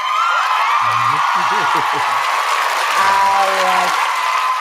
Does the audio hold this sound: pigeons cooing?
no